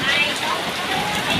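Steady rain pours down outdoors, a dense continuous hiss with no pauses, close and fairly loud throughout.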